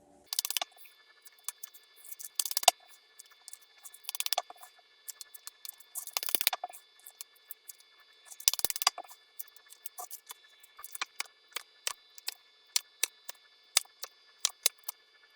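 Tarot cards handled for a reading, with crisp, close shuffling and snapping bursts followed by a string of light, evenly spaced taps and flicks as cards are laid down in quiet.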